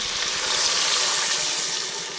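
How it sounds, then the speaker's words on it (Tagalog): A little water pours steadily into a pan of sautéed sardines with pechay in a continuous splashing rush, close by, with no talking. "Maglagay po tayo ng kunting tubig"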